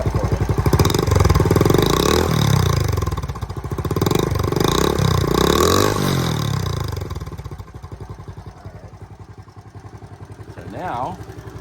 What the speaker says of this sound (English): I'm gonna rev it up for you.